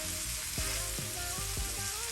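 Chopped shallots sizzle in Kerrygold butter in a pan with a chuck roast, a close, steady crackling fry with several regular soft knocks or stirs through it.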